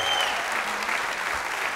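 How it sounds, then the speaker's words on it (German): Audience at a charity comedy gala in Bad Kreuznach applauds the band, a dense, steady wash of clapping from a full hall, heard alone for a short stretch. "Mal großer Applaus für die Band!"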